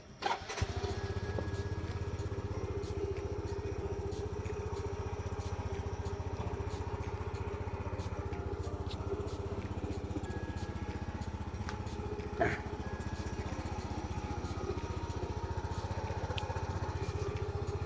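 A used fuel-injected motorcycle engine starts with a brief crank and then idles steadily, a close, continuous low rumble that holds unchanged for the rest of the stretch, with no talking over it.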